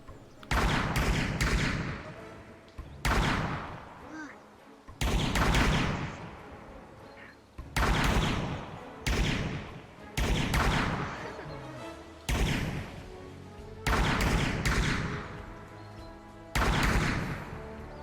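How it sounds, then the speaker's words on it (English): Rifles firing in rapid repeated volleys, sharp loud cracks in bursts separated by short pauses, carrying on steadily with no speech. "Rifles at the ready. Ready. Take aim. And open fire."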